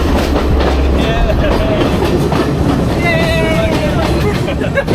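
Rattling, rumbling ride aboard a train through Sri Lanka, with a steady broadband roar, low rumble and intermittent metallic squeals, continuous and fairly loud, with faint voices in the background.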